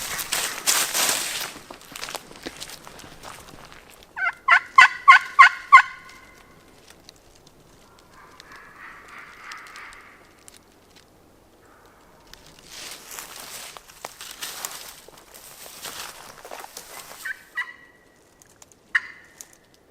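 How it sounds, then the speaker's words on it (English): A wild turkey gobbles in bursts at a moderate distance near a road on Alabama public land, a rapid rattling call repeated several times, with outdoor rustling and a few quieter calls between. "Got him gobbling up there at the road"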